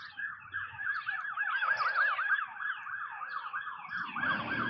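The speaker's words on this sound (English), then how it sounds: "Sirens." Wailing police siren on a passing sheriff's truck, a fast repeating yelp sweeping up and down at moderate distance, joined by a low engine rumble near the end, with no talk.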